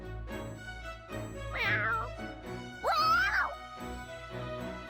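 A voiced cat meow from the video game Fire Emblem Warriors: Three Hopes, two drawn-out, rising-and-falling meows in a clear cat-like tone over a soft background of game music and ambience.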